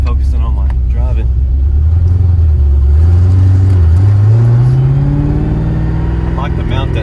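A car's engine rumbles and revs during a test drive, loud and continuous, with pitch climbing steadily as it accelerates and a voice briefly heard at the start and end.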